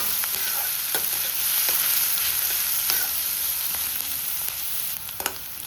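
Sliced onions frying in mustard oil for a North Indian chole curry, a bright steady hiss with occasional stirring scrapes and taps, close and continuous.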